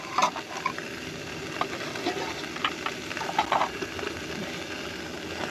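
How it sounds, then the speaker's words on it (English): A steak sizzles in a pan on a stove, with soft, irregular crackles and spits over a low background and no talking. "First time trying steak on this stove, so nothing incredible looking, but steak."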